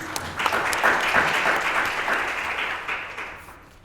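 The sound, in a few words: audience round of applause at conference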